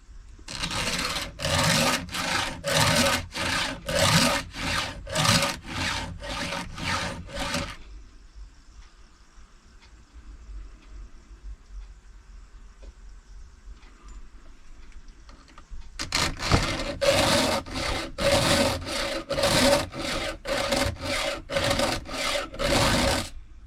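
A file rasps across chainsaw chain teeth in quick, rhythmic strokes while sharpening, two close, loud bursts of filing separated by a quieter pause of faint rustling.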